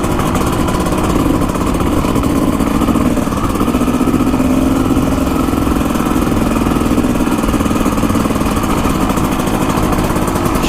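A Kawasaki KX dirt bike with a blown rear shock idles loudly and close outdoors on a property, a steady, continuous engine drone with no revving and no talking.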